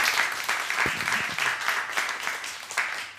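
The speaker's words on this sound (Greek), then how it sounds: "Το χειροκρότημα πάει και στις δύο" Audience applause breaks out after a recited Cretan mantinada, a lively burst of many hands clapping close by, dense and uneven, swelling and dipping for a few seconds with no speech over it.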